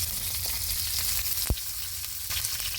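Curry leaves crackling in hot coconut oil for a tempering, a loud continuous sizzle with a sharp pop partway through.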